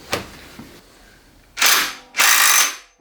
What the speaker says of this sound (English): So I'm going to set up the impact gun and we'll see.